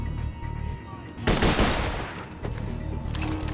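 Sniper rifle gunfire in a video game, one sharp, loud shot that cracks out suddenly and trails off, amid ongoing game noise and a few quieter shots later.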